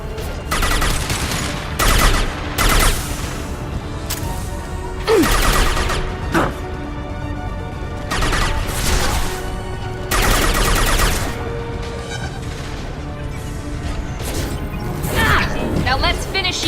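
Bursts of video game gunfire in Mass Effect 2 (Miranda's loyalty mission), loud repeated volleys and rapid automatic fire with sharp impacts, with game voices talking between the shots.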